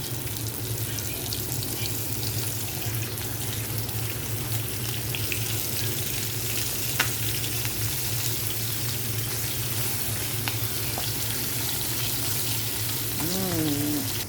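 Chicken skin fries in hot oil with a continuous, even crackling hiss and a low hum underneath for about fourteen seconds; a faint voice briefly surfaces near the end.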